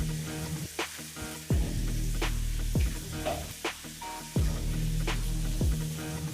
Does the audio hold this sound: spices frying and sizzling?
yes